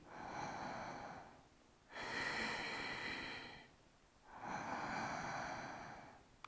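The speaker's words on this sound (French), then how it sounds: "venez prendre 3 profondes respirations dans le cœur" Slow, deep breaths during a yoga session, with two long airy inhales or exhales separated by brief pauses, close and soft with no talking.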